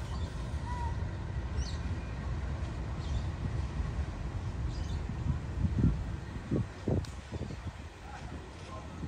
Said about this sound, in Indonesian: ini kereta api Argo Bromo Anggrek akan diberangkatkan dengan menggunakan rangkaian bekas Taksaka High Trip